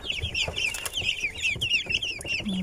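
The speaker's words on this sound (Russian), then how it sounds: "Вот они, цыплята" Silkie hen chicks peep in a rapid stream of high, thin chirps, close by, over soft rustling and low bumps.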